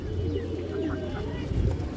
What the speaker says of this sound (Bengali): এবং খুবই চঞ্চল একটা কবুতর